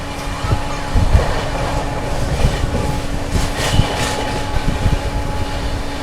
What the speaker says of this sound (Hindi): बढ़िया रफ्तार में ट्रेन दौड़ रही है अपनी एकदम।